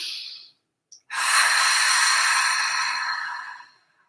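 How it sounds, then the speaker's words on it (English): A long, close, audible deep breath: a brief inhale-like sniff, then a steady, breathy exhale lasting about two and a half seconds before fading out. "Let's take just one final deep breath together."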